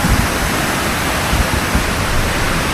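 A dense, even roar of falling water at a hidden waterfall near Karjat and Bhivpuri, close and continuous for a few seconds with no voices.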